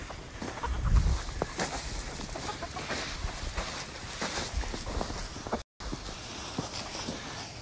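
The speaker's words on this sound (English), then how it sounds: "So the chickens are out here scratching up the poops and they're doing a pretty good job of it." Chickens scratch through dung in a paddock outdoors, giving a busy scratching and rustling patter. Scattered soft clucks and footsteps run through it, with a brief dropout near the end.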